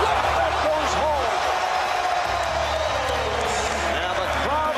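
Arena crowd at the 2003 NBA All-Star basketball game cheering in a sustained, loud roar, with sneaker squeaks cutting through and an announcer talking over it throughout.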